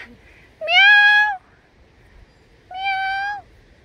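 A wild cat meows twice on a mountain hiking trail near waterfalls in Austria, two clear, drawn-out calls about two seconds apart, close and loud against a quiet background.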